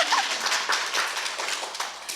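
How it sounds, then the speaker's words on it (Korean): A short burst of applause from a group of people at an interview-style talk: dense, close hand clapping that keeps up for a couple of seconds. "박수를 안 드릴 수가 없을 것 같아요."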